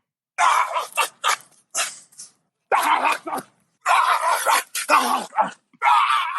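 A dog barks and yips in quick, irregular bursts, loud and close, with short silences between the sharp, ragged outbursts.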